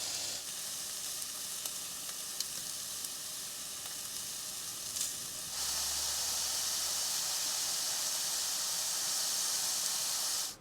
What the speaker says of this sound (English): Let's get this steak in there.